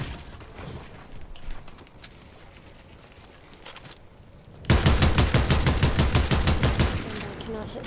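Rapid automatic gunfire in a video game, a loud, sustained burst of closely spaced shots after a quieter stretch of scattered firing and movement noise.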